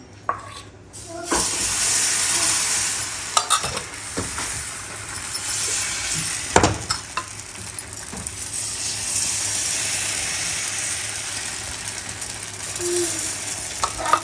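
Steady hissing sizzle of barnyard millet (bhagar) dosa batter on a hot griddle, continuous throughout with a few sharp scrapes and clicks in the middle.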